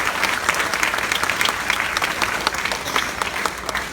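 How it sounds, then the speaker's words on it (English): A community theater audience applauds the cast steadily, dense clapping from many hands at moderate distance with no one speaking over it. "These folks deserve some applause too."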